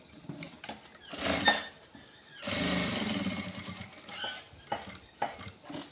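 Sewing machine stitching a border around a checked shirt, running in two bursts of steady mechanical whirring separated by brief pauses, fairly close.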